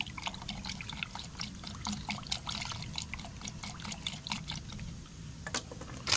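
Water with a little fungicide poured and stirred in a container for treating adenium plants, a steady close trickling and splashing with small sharp drips throughout, no talking.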